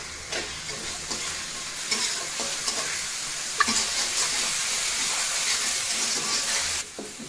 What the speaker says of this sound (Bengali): এবার আমি এই চিকেন ভাজা তেলের মধ্যে সব রান্নাটা করে নিব। এই ভিন্ন স্বাদের চিকেন রান্না করার জন্য প্রথমে আমি পেঁয়াজটুকুকে ভালোভাবে বেরেস্তার মতো করে নিব।